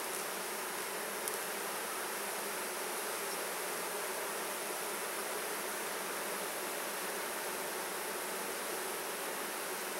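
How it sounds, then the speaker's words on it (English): Honey bees swarm and buzz around an open beehive, a dense, loud, continuous drone close to the listener throughout, with no voices. "there's a lot of bees out there"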